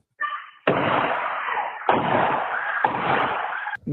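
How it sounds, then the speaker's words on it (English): Three loud, sharp gunshots ring out in quick succession, recorded on a doorbell camera, each trailing off with a rough echo, heard close and harsh. "Gunshot after gunshot until the chamber was empty."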